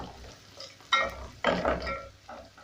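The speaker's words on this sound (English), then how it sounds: "I'll continue stirring this as I wait for my onions to fully become golden brown" Onions frying toward golden brown in a pot for Swahili beef pilau, with a soft sizzle under intermittent scraping and clattering bursts from a spoon stirring nearby, no voices present.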